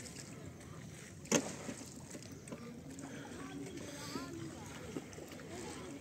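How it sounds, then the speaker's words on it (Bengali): A wooden rowing boat crossing a river, with a soft continuous wash of water against the hull, one sharp knock or splash early on, and quiet murmurs of people nearby. "নদী পারাপার হচ্ছে আমরা নৌকা দিয়ে টানা টানা"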